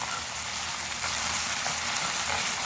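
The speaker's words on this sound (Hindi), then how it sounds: "प्याज जिंजर गार्लिक पेस्ट को हम मीडियम फ्लेम पर फ्राई करेंगे।" Onion with ginger garlic paste fries over a medium flame, making a continuous broad sizzle that stays fairly loud and even, with no voices.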